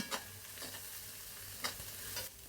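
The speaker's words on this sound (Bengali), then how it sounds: "এখন আমি মশলাটা ভাজা ভাজা করব। আমি কোনো পানি দিব না, এই তেলেই মশলাটা ভাজা ভাজা হয়ে যাবে" Spice paste fries in oil in a pan for a chicken curry, a soft continuous sizzle broken by a few scraping stirs, faint and close with no voices.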